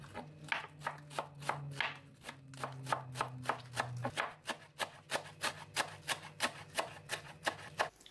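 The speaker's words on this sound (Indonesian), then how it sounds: "Dua batang daun bawang, kemudian dipotong-potong kecil seperti ini." A knife chops spring onions into small pieces on a cutting board, a steady run of crisp, evenly spaced taps close by, with a low hum underneath and no talking.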